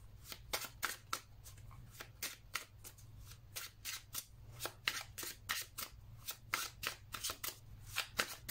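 Tarot cards are shuffled by hand, a quiet, close run of crisp riffling flutters repeating in quick irregular bursts over a faint low hum.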